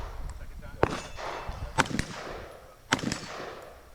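Rifle shots at a competitive shooting match ring off steel plate targets, three sharp loud cracks spaced about a second apart, each followed by a brief metallic ring and outdoor echo.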